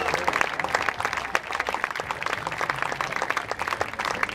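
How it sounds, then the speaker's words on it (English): Crowd applause and cheering at the close of a tennis doubles exhibition match, a dense, steady wash of many clapping hands with scattered louder claps, filling the arena continuously and loudly. "Let's give all a big round of applause,"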